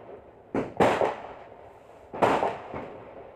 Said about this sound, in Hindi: थोड़ा बहुत आ रही है आवाज़ पटाखे की